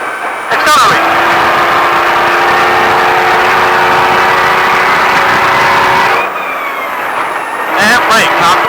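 A Baja truck engine accelerating hard at the Speed Vegas track, a loud, steady, rising drone that holds for several seconds and then cuts off abruptly before revving again, with voices audible underneath.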